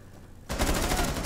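Sustained automatic gunfire from Rainbow Six Siege, a dense close burst that erupts suddenly after a quiet moment and rattles on loudly without pause.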